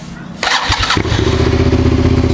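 A Suzuki SV motorcycle engine cranks briefly with the starter, then catches and settles into a loud, even, close idle rumble.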